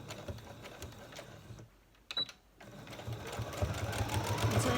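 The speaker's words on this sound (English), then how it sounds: "we're going to go ahead and again sew and then back stitch" A sewing machine runs with red thread as it sews a seam and back stitches, a steady mechanical whir that stops briefly, clicks, and starts again, growing louder near the end.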